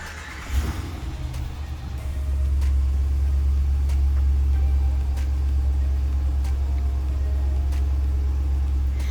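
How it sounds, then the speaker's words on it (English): A 2019 RAM 2500 Big Horn pickup's engine cranks and fires up with a quick burst, then settles into a steady, deep rumbling idle heard close up. "I'll now just get inside this pickup and turn it on for you."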